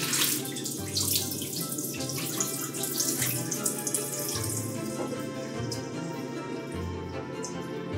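Water being dumped and running in a sink while washing hominy for pozole, a close, continuous splashing gush with small drips and clatter throughout.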